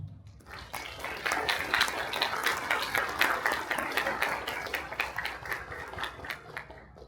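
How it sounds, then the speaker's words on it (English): An audience claps steadily after Professor Narayan's lecture on research, a dense, even patter of many hands that holds at a moderate level throughout. "Could we give him another round of applause, please?"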